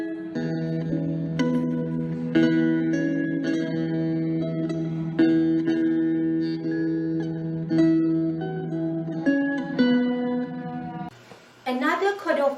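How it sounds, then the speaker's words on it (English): A sape, the Malaysian traditional lute, plays a steady plucked melody over a ringing drone, close and clear, ending with a brief burst of another sound. "This is the sound of sape."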